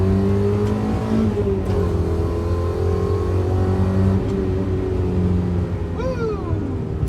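A light car of roughly 100 horsepower with a newly installed brass shifter bushing accelerates hard, its engine droning loud and close with a steady rising whine that briefly drops near the end as it shifts gear.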